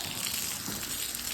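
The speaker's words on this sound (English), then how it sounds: "we're gonna pour that over the bricks" Hot water from a makeshift outdoor heater is poured over rock-hard frozen bricks, making a steady, close gushing splash that runs without a break.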